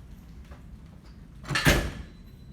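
A front door swings open into an office with a short rattling whoosh and clunk, fairly close, in an otherwise quiet room.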